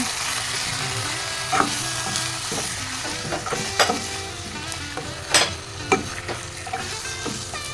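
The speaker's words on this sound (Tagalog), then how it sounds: "Pwede na natin ihulog ang ating chicken. Ayan guys, chicken natin. Haluin lang." Chicken fries in a pan with garlic, onion and ginger for a Filipino chicken curry, a steady close sizzle broken by several sharp scrapes and clacks of a utensil stirring, with no talking.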